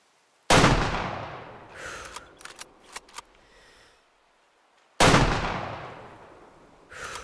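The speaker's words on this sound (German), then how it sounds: "haben wir den durch die Lunge geschossen?" Hunting rifle shots at an animal in Way of the Hunter: two loud sharp reports with long decaying echoes, separated by quiet bolt-cycling clicks and rattles.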